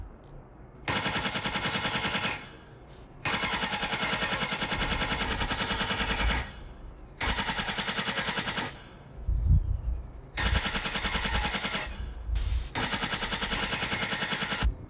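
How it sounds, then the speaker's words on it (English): A programmed drum beat with open hi-hats and rim shots plays in dense, rapid bursts that start and stop in repeating sections, loud and alone with no voices. "I added open hats, some rim shots."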